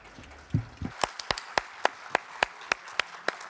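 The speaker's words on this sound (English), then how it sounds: "This warm applause for our guests" Slow, evenly spaced claps ring out at an opening ceremony for a data festival, about a dozen sharp beats in steady rhythm following a brief muffled rustle.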